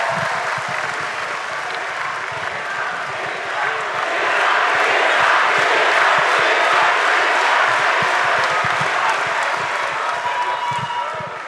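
A large crowd at a Prabowo–Gibran national campaign consolidation event applauds Gibran with loud, dense clapping. The clapping holds steady, swells around the middle and stays strong to the end, with some crowd noise mixed in.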